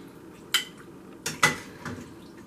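Homemade mac and cheese with ham and broccoli being scooped into a baking dish: a few quiet, sharp clinks and scrapes of a utensil against the dish, spaced apart over near silence.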